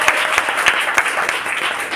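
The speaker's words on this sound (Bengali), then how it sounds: "তার জন্য একটা জোরে হাততালি হোক" An audience applauds at a jatra theatre troupe's muhurat ceremony, a dense, steady wash of clapping with a few sharper individual claps, continuous for the whole moment.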